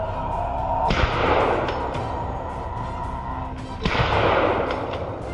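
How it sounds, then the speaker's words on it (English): Two sharp gunshots crack out a few seconds apart in a countryside setting, each a loud sudden blast followed by a ringing rumbling decay over a faint background. "A series of gunshots rang out, taking down the lead boar"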